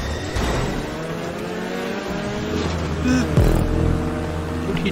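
Race car engines droning through a hotring race in GTA Online, a steady mid-pitched motor hum with a brief sharp impact near the end, running under a voice.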